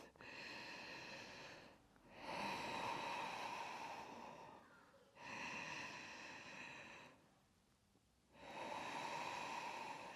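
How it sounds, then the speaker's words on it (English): Ujjayi breathing during a yoga flow, with three long, audible ocean-like breaths. Each slow, raspy inhale or exhale is separated by brief pauses, close and steady, with no talk. "Engaging that Ujjayi breathing."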